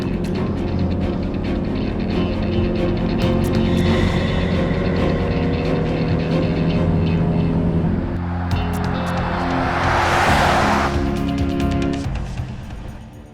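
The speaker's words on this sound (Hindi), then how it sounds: "गाड़ी तेज चलाओ।" A car being driven fast makes a loud, steady engine and road roar that fills the whole stretch, with a rising hissing whoosh near the end.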